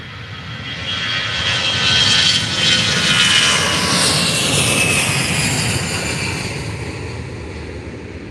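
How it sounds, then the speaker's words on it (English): A Condor Airbus A320 takes off at Faro Airport, its jet engines swelling into a loud, sustained roar that peaks midway and then slowly fades as it climbs away. "So here goes the Condor A320 to Dusseldorf."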